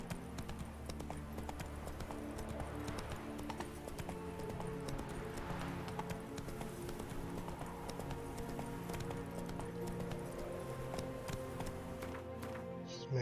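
Roach, a horse in The Witcher 3, gallops in a fast, steady clip-clop of hooves that runs throughout, with a faint neigh and a short spoken urging from the rider.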